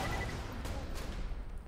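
Sniper rifle gunfire in Borderlands 2, heard as a couple of sharp shots over a dense, rumbling wash of game sound, with no talking.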